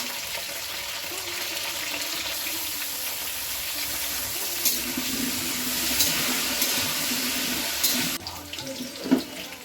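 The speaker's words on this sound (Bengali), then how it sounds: "মুগ ডালটা ভেজে তারপরে তো আলাদা পাত্রে ঢেলে সেটাকে আবার ধুয়ে নেব" Fried mung dal being rinsed in a separate pot: running tap water pours and splashes steadily into a sink, with occasional louder sloshes and clinks near the end.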